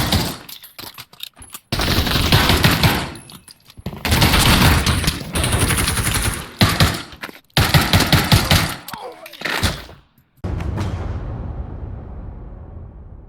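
Weapons fire in the VR shooter Pavlov: loud, close bursts of automatic fire and single shots broken by short silences, with reloading clicks between volleys before a final fading burst.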